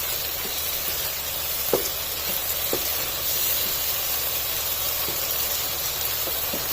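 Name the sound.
chicken jalfrezi frying in oil with black pepper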